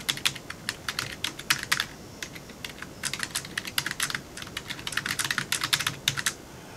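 Someone types text into a form on a computer keyboard. Rapid clicking keystrokes come in bursts with short pauses between them, close and moderately loud.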